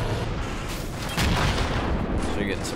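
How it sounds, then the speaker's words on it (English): Explosion of an ATGM missile strike in the Red Rising mod for an Iraq War 2003 tank battle game, a loud boom swelling midway over dense continuous battle noise with scattered gunfire. "ATGM strike there."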